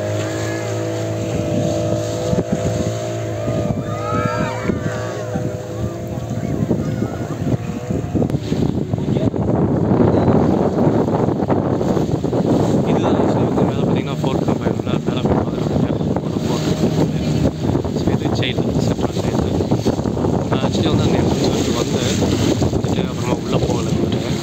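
A motorboat out on the sea off Goa in strong wind, its engine droning steadily while gusts buffet the microphone and waves wash around the hull. Faint voices are heard early on.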